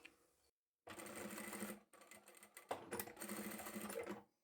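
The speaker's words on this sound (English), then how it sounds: "first up I'm going to sew the ends of the handles, back stitch at the beginning and the end" A sewing machine stitches the ends of fabric handles for a small zippered handbag, its rapid mechanical whirr running in two steady close bursts separated by a brief pause, with no talking.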